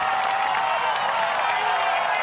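A large crowd, some of them waving Union Jacks, applauds at the finish of a European Championships triathlon race in Munich. The steady, dense clapping and cheering is heard from a distance under a commentator's voice.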